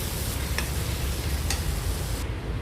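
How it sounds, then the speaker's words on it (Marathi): Potatoes sauté in oil with a salt, turmeric and chili powder masala, giving a steady close sizzle with a couple of faint stirring ticks and no talking. "मसाल्यामध्येच थोडं परतायचं."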